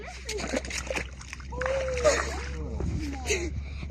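A person steps into water at an old rock-cut cave site, producing several sloshing splashes of moderate loudness, close by, while voices, including a child's, talk over them.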